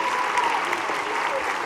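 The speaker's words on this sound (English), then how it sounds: "Can we have one more round of applause for our student accompanists and percussion, please?" Audience applause at a middle school winter concert for the student accompanists and percussionists, steady dense clapping throughout without voices.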